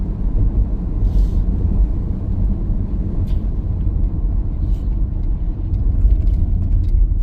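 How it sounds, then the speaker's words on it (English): A car cruises along West Virginia roads with the windows down, a steady loud rumble of engine, tires and wind buffeting close by, with no talking. "As we've been driving, I've got my windows down"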